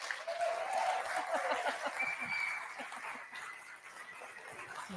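An audience at a live event in Calgary applauding a guest, a fairly faint wash of clapping with some cheering voices that thins out toward the end.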